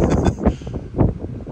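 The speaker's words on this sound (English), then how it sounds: "We're just below the cloud line. But really windy." Strong gusts batter the microphone on a hillside just below the cloud line. The wind arrives in heavy buffeting surges, loud and close, with no clear speech over it.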